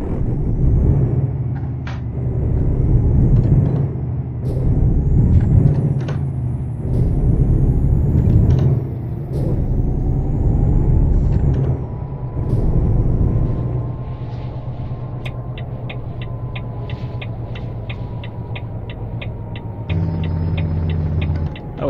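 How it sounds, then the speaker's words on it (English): A heavy truck engine in Euro Truck Simulator 2 rumbles and revs, with a loud staccato Jake brake chatter and hissing air bursts, ending in a rapid clicking sequence. "thing does have the Jake brake sound."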